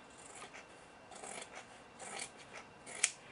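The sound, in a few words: scissors trimming excess fabric of a DIY clutch purse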